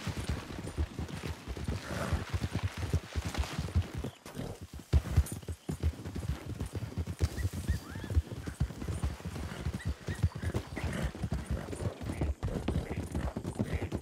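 Horse hoofbeats in a video game, a continuous rapid clip-clop of galloping at moderate volume with occasional neighs, no talk.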